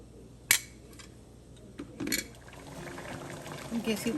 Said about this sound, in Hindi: अब हम इसमें थोड़ा सा देसी घी डाल देंगे, 1 चम्मच।